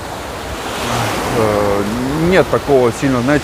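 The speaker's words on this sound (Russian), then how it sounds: "Ой, волны обдают" Sea waves wash and splash onto the shore at Anapa in a warm wind, making a steady roar and rush close by, while someone talks over them.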